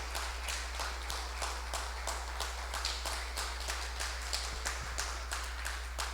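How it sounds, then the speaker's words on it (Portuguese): A church congregation clapping in a strong, even rhythm, about three claps per second, loud and sustained throughout over a steady low electrical hum. "Você pode dar um aplauso ao Senhor pela palavra"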